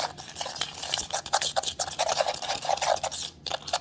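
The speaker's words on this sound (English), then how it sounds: "And then I'm just gonna mix it around in here" Ingredients for an apple pie cookie sprinkle topping are stirred around in a bowl, with steady scraping and light clinking of a utensil against the sides, close and continuous with brief pauses.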